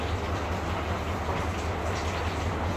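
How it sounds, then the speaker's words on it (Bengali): A railway train engine rumbles steadily at Mymensingh railway station, a loud, close, continuous low drone with mechanical texture. "এই যে দেখা যাচ্ছে ইঞ্জিনটা, রেল ট্রেনের ইঞ্জিন।"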